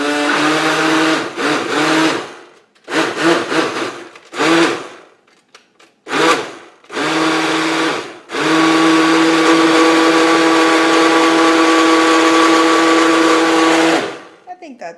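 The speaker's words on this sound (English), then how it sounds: "Give it another quick stir." An avocado hair conditioner mixture is stirred with a whirring motorized blade, running in several short bursts and then one long steady spin, fairly loud and close, with some voices in between.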